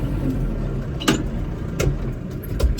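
Kubota M6800 tractor plowing snow at night, with a steady engine drone throughout and a few short clunks and thumps over the top, close and fairly loud.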